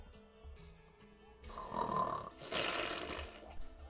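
A voice imitating snoring, one long raspy drawn-out snore, rough and growly in texture and moderately close, with no other talk.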